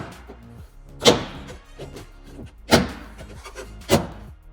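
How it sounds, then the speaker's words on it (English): Plastic air duct panel tabs on an Everchill BCD-455WTE refrigerator popping into place as the panel is pushed back, three sharp distinct snaps spaced over a few seconds against quiet handling noise. "push the panel back into place, making sure you hear the tabs popping back into place"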